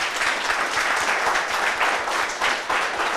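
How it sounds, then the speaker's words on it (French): A crowd at a youth talk-show taping in Koumassi applauds a political guest, with a sustained wash of clapping and individual hand claps standing out in an irregular rhythm, fairly close and steady. "On l'applaudit très très fort"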